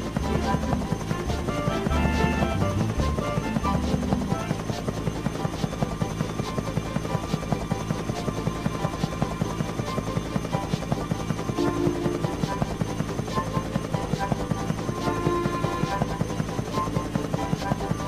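A biplane in a Thomas and Friends railway game drones steadily nearby, its engine buzz continuous and fairly loud throughout with a faint musical backdrop.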